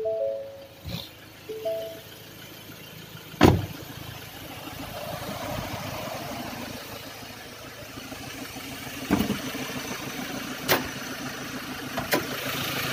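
A Ford Ranger 2016 XLT 2.2 turbo diesel pickup idling with the bonnet open, a steady, fairly smooth engine hum running throughout with a few sharp clicks and knocks nearby.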